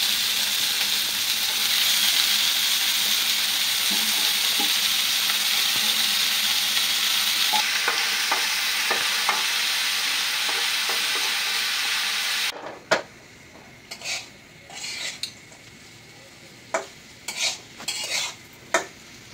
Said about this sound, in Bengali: তেলের সাথে পেঁয়াজ এবং চিংড়ি মাছটা কাঁচামরিচ ভালোভাবে ভাজা হয়ে গেছে, এখন আমি করলা দিয়ে দিই।